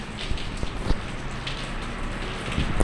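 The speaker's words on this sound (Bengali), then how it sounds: "গুড়ি গুড়ি বৃষ্টি পড়তেছে।" Light drizzling rain falls steadily, a soft continuous patter with a few slightly louder drops scattered through it and no voices.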